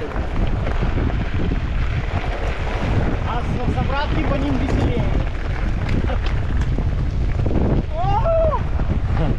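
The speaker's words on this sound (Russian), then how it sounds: "Как я люблю ветер." Strong wind buffets the microphone continuously during a bike ride on a ridge trail in Crimea, a loud, rough roar as riders talk briefly over it.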